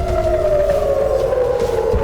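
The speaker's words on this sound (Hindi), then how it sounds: "इजरायली शहरों में सायरन बजने लगता है" An air raid warning siren wails over Israeli cities, a loud sustained tone that slowly falls in pitch, heard alone over low rumbling background noise.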